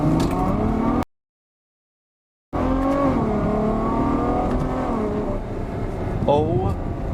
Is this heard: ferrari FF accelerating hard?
yes